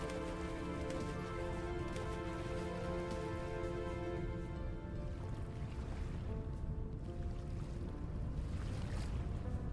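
Steady rain falls in the survival game Vintage Story, a dense continuous patter with low-pitched drumming on surfaces, easing slightly partway through under faint background tones.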